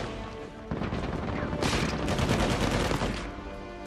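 Gunfire in the video game Uncharted 4 crackles in rapid bursts, a dense spray of loud shots that thickens midway into a sustained volley before easing off.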